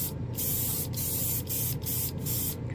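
BEHR spray paint sprayed onto plastic, a series of short hissing bursts from an aerosol can with brief gaps between them, close and fairly quiet.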